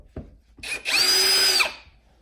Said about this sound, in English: I like to use a drill for this step, makes it quicker.